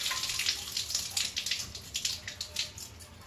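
Water splashes and trickles in uneven bursts as rice is washed in a pot and fresh water is poured over it, close and fairly loud.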